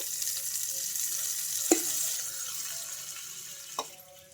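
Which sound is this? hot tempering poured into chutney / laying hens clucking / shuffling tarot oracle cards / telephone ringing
hot tempering poured into chutney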